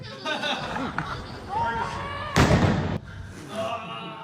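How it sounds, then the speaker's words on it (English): A single sharp firework bang goes off in a city street, a short loud burst amid ongoing conversation and background chatter, with people talking before and after it. "That was a pretty good firework. That was solid for the middle of the street in the city."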